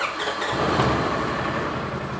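Engine of a 2015 Polaris RZR 900S side-by-side, cranked and catching, then settling into a steady, loud close-up idle that runs throughout without a break.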